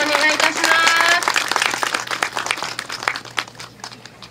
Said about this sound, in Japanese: 皆様、高山さんにも一度大きな拍手をお願いいたします。